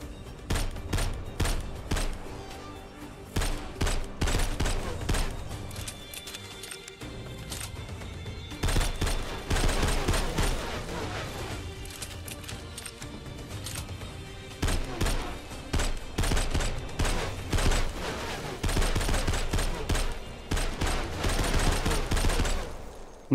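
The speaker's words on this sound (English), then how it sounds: "My bullets aren't hitting, I just realized that." Video game gunfire crackles in rapid bursts and sustained automatic volleys throughout, with short pauses between strings of shots, fairly loud and continuous.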